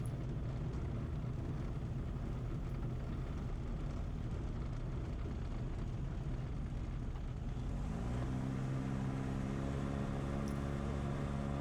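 A light aircraft engine drones steadily through the cockpit as it comes in to land on a soft grass farm runway, settling into a clear steady hum near the end.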